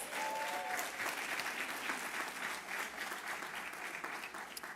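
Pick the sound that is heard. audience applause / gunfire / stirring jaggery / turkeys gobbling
audience applause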